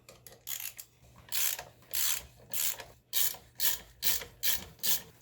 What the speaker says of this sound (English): So you have 3 bolts here in the front that you need to take off of this bracket